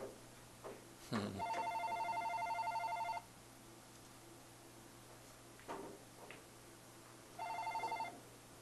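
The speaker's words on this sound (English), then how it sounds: "Phone." Telephone ringing in two electronic bursts, a long ring of about two seconds and then a shorter one near the end, with a clunk and faint room noise in between.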